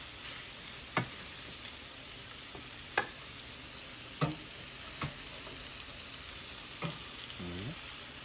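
Noodles tossed with ham in a frying pan give a soft continuous sizzle, punctuated by about five distinct clacks of a utensil striking the pan at irregular intervals, with no speech.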